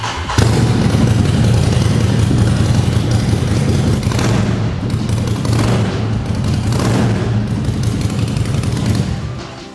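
A Ducati Scrambler Desert Sled motorcycle fires up and idles, a loud, close, continuous rough engine rumble with uneven throbbing pulses running steadily for several seconds.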